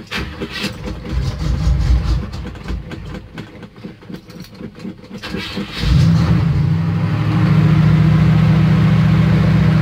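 Cold start of a 1978 Chevy C10 truck: the engine cranks and sputters unevenly, then catches and settles into a loud, steady low idle, close by with no talking.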